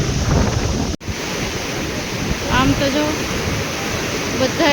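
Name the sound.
water rushing from opened dam gates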